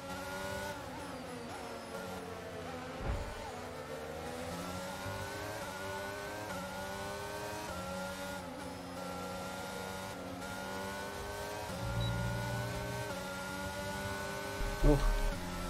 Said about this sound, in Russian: Ух, как разогнался Вильямс, посмотрите.